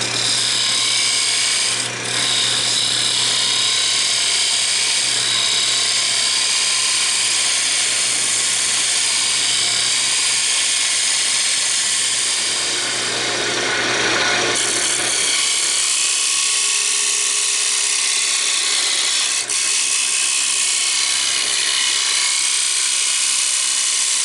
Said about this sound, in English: I'm going to get this sanded up now on the outside